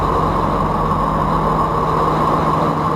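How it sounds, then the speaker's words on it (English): Steady, unbroken low drone of a German 212 Alpha submarine's conventional diesel engine running, loud and close with a constant hum and no variation across the stretch. "This is what the 212 Alpha sounds like when using its conventional diesel engine."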